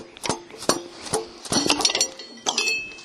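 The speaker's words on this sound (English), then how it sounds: "take a dead blow hammer and just kind of persuade this end cap off." A series of sharp metallic knocks, about six irregular dead blow hammer strikes knocking the end cap off a hydraulic cylinder up close, with ringing clinks between them.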